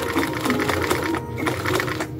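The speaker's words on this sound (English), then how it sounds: "But Kenmore 1755 has absolutely no issues with sewing this lovely denim." A Kenmore 1755 sewing machine stitches through denim, running close and loud with a rapid, even needle rhythm that carries through the short stretch, with no speech.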